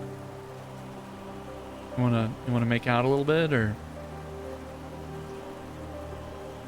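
Steady rain falls in the Hollow Knight video game, a constant soft hiss throughout while someone briefly speaks over it.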